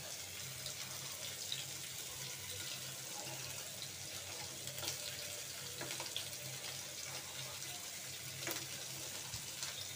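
Water runs into a pot of chicken curry on a stove turned up high, a faint, steady rushing hiss with soft crackles and no talk.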